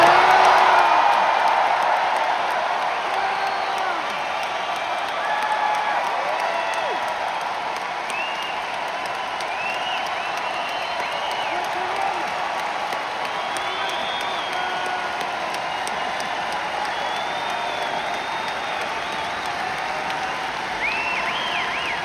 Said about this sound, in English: Let's hear it for John